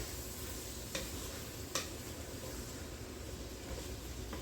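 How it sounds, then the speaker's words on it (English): Ox tail sizzles steadily while sauteing in a pan, a dense continuous frying hiss with a couple of brief clicks from stirring. "You just want to saute it for enough to get the flavor all mixed together."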